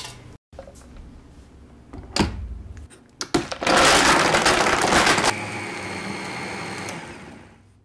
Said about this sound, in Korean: 유청을 넣고 레몬즙을 넣고 요거트를 넣거나 없다면 우유를 넣고 얼음도 넣어서 갈면